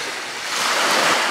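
Sea waves wash against the coast while wind blows across the microphone, a continuous broad hiss that swells a little louder toward the end, with no talking.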